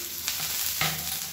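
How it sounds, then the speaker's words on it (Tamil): Steady sizzling of small shallots frying in a pan, with a couple of brief stirring scrapes, continuous and close. "இதையும் நல்லா வதக்கிக்கலாம்."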